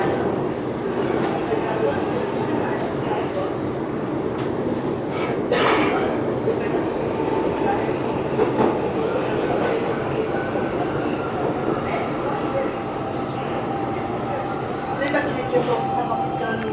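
A passenger train on the Águas Claras line near Manoel Feio station rumbles steadily along the rails from on board, with occasional wheel clatter and squeal, and faint background voices.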